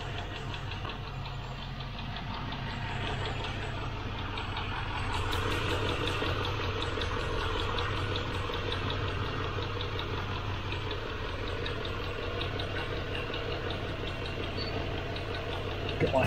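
A carburetted engine in a 1972 Range Rover idles steadily while warming up from cold, giving a close, continuous low rumble with an even, unchanging rhythm throughout.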